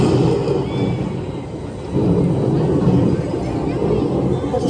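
A thunderstorm sound effect in a Peanuts stage show at Knott's Berry Farm rolls as low rumbling thunder, swelling midway and lingering throughout, with an audience murmuring underneath.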